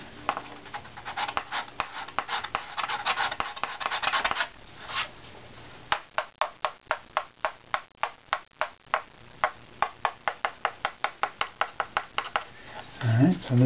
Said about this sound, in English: a bit high, scrape that a bit.